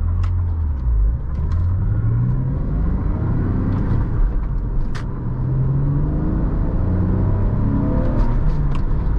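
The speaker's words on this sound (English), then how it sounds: "I'm just kind of rowing through the gears and it's very easygoing." The engine of a 2000 Porsche Boxster S with a manual gearbox drones steadily, its pitch climbing and dropping repeatedly as it works up through the gears, with a constant road rumble underneath.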